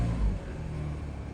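An old car engine with 112 miles on it, parked for a while and with low tyres, idles nearby as a steady low rumble, with a short louder surge near the start.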